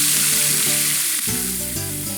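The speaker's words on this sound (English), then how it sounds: "Today we're cooking carne asada," Carne asada fajitas sizzle loudly on a hot ranch griddle, a steady bright frying hiss running throughout with a faint stirring shift midway.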